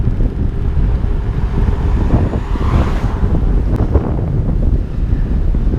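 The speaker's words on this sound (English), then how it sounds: "There's a little bit of wind here and I'm not used to that, especially when I'm going faster." Wind roars steadily and loudly across the microphone while riding a Bego along the Lizard in Cornwall, a constant broadband rush with no speech.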